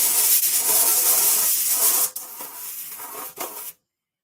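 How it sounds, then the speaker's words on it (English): An airbrush sprays white dope in a loud, steady airy hiss that drops out briefly, resumes, and then cuts off abruptly. "You can use this as an airbrush"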